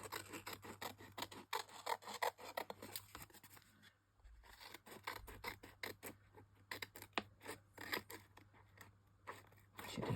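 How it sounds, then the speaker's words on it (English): Scissors trim the edge of paper during a gilding-flake craft project, making a quiet, steady run of short snips and rasping cuts close to the microphone. "I'll just trim off this little bit at the edge."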